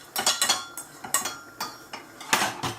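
A utensil stirs a corn flour mixture with meat juices in a bowl, producing a quick irregular series of light clinks and taps against the bowl, close and clear, with no talk.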